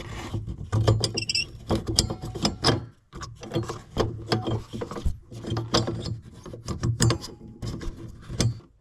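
A headlight bulb on a 2017-2022 Kia Sportage is twisted counterclockwise out of its housing, making close, irregular plastic clicks, scrapes and rubbing knocks in quick bursts.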